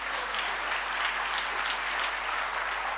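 An audience at a motivational business training session claps together in a steady, even wash of applause, fairly quiet and continuous throughout, with a low constant hum beneath.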